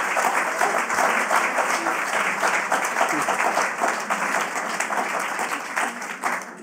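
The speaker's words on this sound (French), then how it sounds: "On peut l'applaudir." Lecture audience giving sustained applause after a talk on emotions and democracy, a continuous, fairly even wash of many hands clapping in a room with no voices over it.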